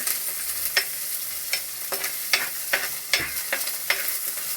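Fish curry base with curry leaves frying and being stirred in a pan, a steady close sizzle broken by a sharp utensil scrape roughly every half second, with no voices.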